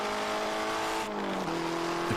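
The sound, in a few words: race car engine with an exhaust leak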